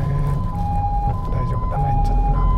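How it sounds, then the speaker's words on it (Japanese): An ambulance siren wails in a steady alternating two-tone pattern, fairly close and loud over road and engine noise heard from inside a car in Japan. "救急車だ。"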